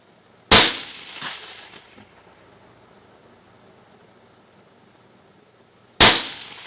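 A rifle fires at a clay pigeon 1,000 yards away with a loud sharp crack that rolls off in echo, followed by a lighter report and then another loud shot after a quiet gap.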